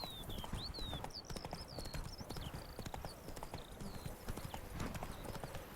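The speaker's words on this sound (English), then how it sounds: "Hopefully, Roach can stick to the path." Horse hooves clip-clop steadily on a path in The Witcher 3, a regular trotting rhythm close by, with birdsong chirping over the top throughout.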